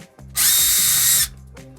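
Power drill with a Phillips bit backing screws out of an RV roof vent, a single loud, high whirring burst of just under a second with quiet handling sounds before and after.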